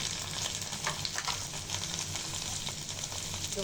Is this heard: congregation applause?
no